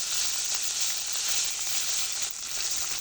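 Ground paste of black cumin, ginger, garlic, onion, cumin and dried chili with turmeric sizzles steadily in hot oil, a close, even, dense crackle with no voices.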